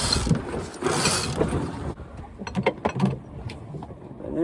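A Lumar sailboat winch ratchets as the jib sheet is hauled in while sailing off the Irish coast, giving a run of quick clicking bursts over wind and water noise.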